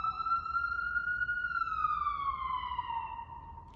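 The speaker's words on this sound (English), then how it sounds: "here's the siren" A siren sounds as one long sustained tone that rises gently, then slides slowly downward before fading, clear and fairly close over a low background hum.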